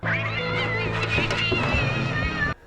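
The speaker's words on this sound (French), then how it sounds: "Puis il est pas content, le chat." An angry cat yowls in a low-budget horror film, a loud, drawn-out harmonic caterwaul lasting a couple of seconds close to the listener, then cutting off abruptly.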